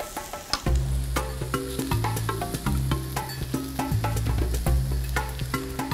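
Steak sears in a pan with a steady close sizzle, overlaid by sustained tonal hum and scattered sharp clicks and taps throughout; no one speaks.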